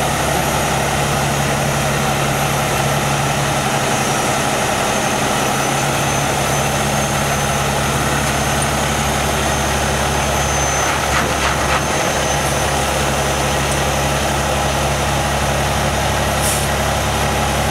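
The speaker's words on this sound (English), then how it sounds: "Now for the second truck, we're pulling it on forward." A 2009 Trail King TK70HT 48-foot Beaver Tail trailer takes a truck driving forward onto it, a loud, steady heavy-engine drone with constant low rumble and a faint hiss of air brakes throughout, no voices.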